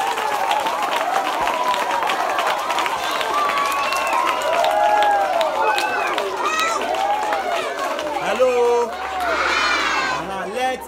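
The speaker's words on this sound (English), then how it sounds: "Let's welcome with a hand of applause." A crowd at a school donation event in Ghana claps steadily to welcome a guest, sustained applause mixed with cheering, chatter and shouts throughout.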